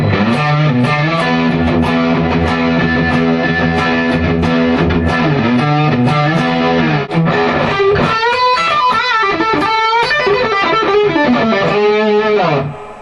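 A heavily distorted electric guitar riff from a Gibson Les Paul Jimmy Page signature on the neck pickup, warm and rounded in tone, played loud and continuous with sustained chords and bending notes.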